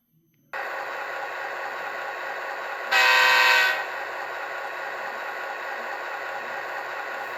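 A steady model train sound with a continuous hum, broken midway by a loud, brief horn blast lasting under a second.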